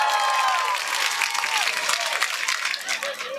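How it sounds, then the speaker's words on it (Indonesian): Audience applause for farmers at a religious gathering, loud and dense, mixed with crowd voices and some cheering throughout the few seconds. "Tepuk tangan dulu dong buat petani."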